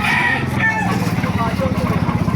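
A rooster crows amid the bustle of an open-air chicken market in Baliuag, Bulacan, with a voice chatting nearby over the low crowd noise.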